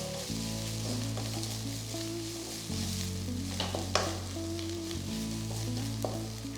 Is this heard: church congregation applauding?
no